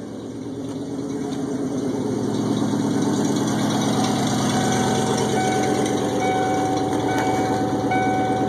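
A 1996 Ford Bronco engine idles after a cold start with the tailpipe not yet fitted, giving a steady, loud, low rumble that holds evenly throughout with no talking.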